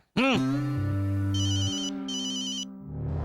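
An electronic phone ringtone plays a bright, repeating melodic pattern, loud and close, over a low sustained hum.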